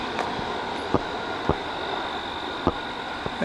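A CSX double-stack freight train rolls past with a steady broad rumble, punctuated by sharp periodic clacks from wheels crossing rail joints, fairly close and loud.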